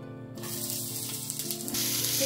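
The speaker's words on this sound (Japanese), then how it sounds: "結構しんなりするまで炒めていきます。 玉ねぎは結構炒めてください。" Onions stir-fry in a pan for a beef and garlic chive dish, a close, steady sizzle and hiss that swells slightly as the short burst goes on.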